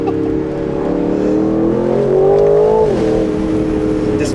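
An Aston Martin Vantage Roadster's twin-turbo AMG V8 revs with the top down, a loud steady engine drone that climbs in pitch and then drops back, close and continuous with no voices.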